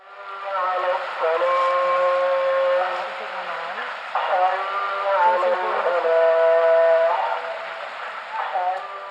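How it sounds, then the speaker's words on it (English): A distant, wavering voice chants the Islamic call to prayer from a mosque in Morocco's Atlas Mountains, echoing across open air, rising and falling in sustained phrases with brief pauses. "What you're hearing right now is the Islamic call to prayer,"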